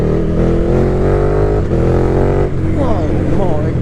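A KTM Super Duke 1290R motorcycle engine roars loud and steady under wind noise, with the pitch shifting as the throttle changes and a rider's voice briefly over it near the end.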